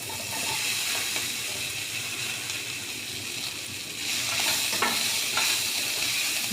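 Drumstick pieces frying with onion and green chili for a tomato prawn curry, a steady close sizzle with scraping stirs throughout and a louder burst of frying toward the end.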